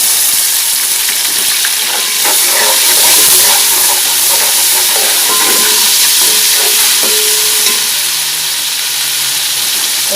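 Garlic-ginger paste hits a hot pan of vegetable pulao, giving a loud, steady hiss and sizzle with scattered crackles and pops throughout.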